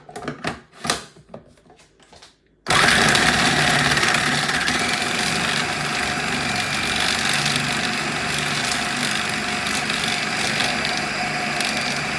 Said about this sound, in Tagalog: Ilagay na natin rito sa ating food processor. Ayan. Tapos start lang natin siya.